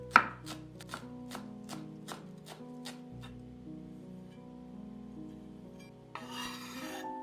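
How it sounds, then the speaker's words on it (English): A knife chops dill against a board in slow, evenly spaced strokes over quiet music, then breaks into a quick flurry of fine chopping at the end. "Finely chopping the dill."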